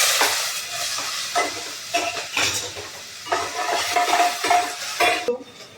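Whole cumin seeds and onion frying in a pan for dal palak give off a bright, crackling sizzle that comes in uneven bursts with stirring scrapes. No one talks.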